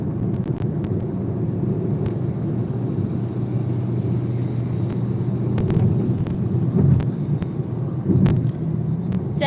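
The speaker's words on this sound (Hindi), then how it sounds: "गाड़ी में से लाइव किए हैं हम।" Inside a car driving along a road, a steady low rumble of engine and road noise fills the cabin, with occasional bumps and faint clicks, and no voices.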